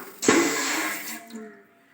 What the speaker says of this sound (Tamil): தண்ணி நல்லா கொதிச்சிட்ருக்கு